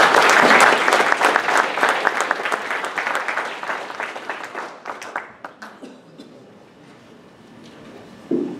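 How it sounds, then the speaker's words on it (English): An audience applauds a doctor introduced at a pediatric sleep apnea talk: loud, dense clapping that thins into scattered claps and fades to near silence, with one last brief sound at the end. "So everyone, please, nice round of applause for Dr."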